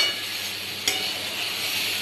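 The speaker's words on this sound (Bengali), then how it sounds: "সবজিগুলো ভালো করে ভেজে নিলাম। আলু, রাঙা আলু, গাজর, পেঁপে, কুমড়ো," Potato, sweet potato, carrot, papaya and pumpkin fry in a pan for shukto, giving a steady close hiss and sizzle with one brief stirring scrape partway through.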